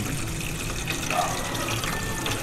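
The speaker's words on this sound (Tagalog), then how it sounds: "Lagyan na po natin may tubig." A steady stream of water pours and splashes at close range, continuous and fairly even throughout.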